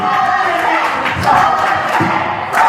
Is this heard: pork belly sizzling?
no